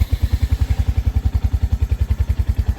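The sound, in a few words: motorcycle engine cold start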